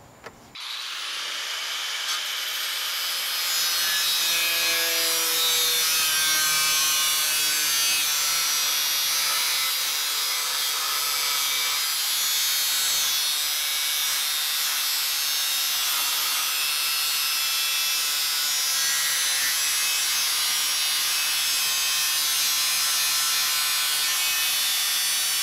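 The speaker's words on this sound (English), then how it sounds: "I gotta cut a space out of the crash bar to fit the inner cool down there" A high-pitched power tool spins up and grinds continuously while a space is cut out of a Honeywell Civic's metal crash bar, loud and close for about twenty-five seconds.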